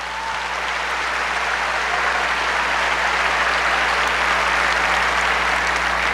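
Strong, dense applause from a crowd during a religious debate, a loud continuous wash of clapping held steadily for several seconds.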